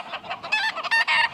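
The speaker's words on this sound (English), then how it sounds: "So all these roosters hear each other right now, and they got each other all wound up." Andalusian roosters in stag pens crowing and clucking, several birds calling over one another in short overlapping bursts, close and fairly loud.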